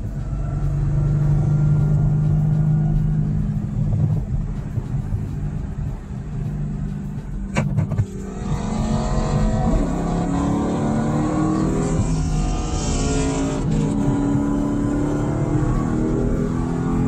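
Car engine revving loudly after a downshift to fourth gear in a modified-engine car, a steady close rumbling roar that dips briefly then climbs again with rising pitch.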